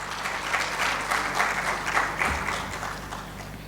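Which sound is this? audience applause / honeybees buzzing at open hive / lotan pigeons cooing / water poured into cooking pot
audience applause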